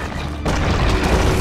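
A heavy boom and crashing impact in a Sacrifice strategy battle, as a building comes under attack, followed by sustained loud rumbling destruction noise.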